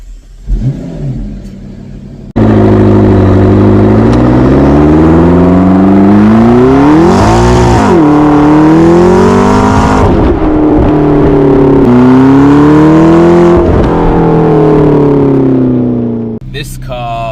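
A supercar with its standard exhaust revs hard and loud for a long stretch, the engine note climbing and falling through several sweeps before easing off at the end.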